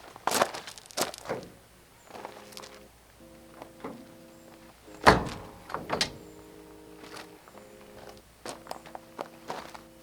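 Gas strut assisted door on a GAIA truck camper mounted on a Jeep Gladiator flipped open, with a sharp thunk and clatter around five seconds among scattered knocks, footsteps and a steady tonal hum.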